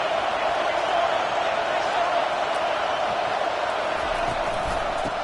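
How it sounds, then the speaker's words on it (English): Dense, steady roar of a stadium crowd at a Tennessee versus Arkansas college football game, loud and continuous throughout with a faint thump near the end. "This crowd bringing the energy and noise early."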